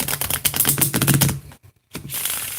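Tarot cards being shuffled by hand in a rapid run of crisp, riffling flutters, close and fairly loud, broken by a short silent pause before the shuffling resumes.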